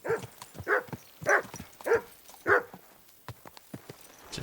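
Dog barking in Kingdom Come: Deliverance II, five evenly spaced loud barks in a row followed by quieter movement sounds and hoof-like clatter.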